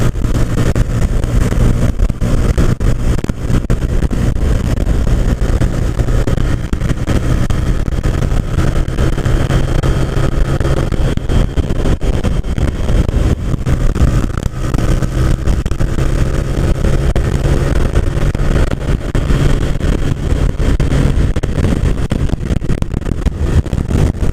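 A small motorcycle rides a gorge road, its engine a constant loud drone mixed with heavy wind rush throughout, with no talking.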